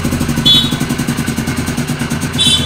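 An old water pump engine runs steadily as it warms up, a loud, close, rhythmic chugging thump with a rattly mechanical clatter and no other sounds over it.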